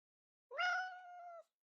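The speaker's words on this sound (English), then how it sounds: "Our very own Kenny the cat is, as we've told you, a rescue cat." A rescue cat gives a single clear meow, rising at the start and then holding a steady, slightly falling tone for about a second, close and alone against silence.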